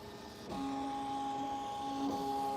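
An embroidery machine traces a design outline, moving toward needle 1: a steady whirring motor hum with a faint tonal whine, heard alone at close range.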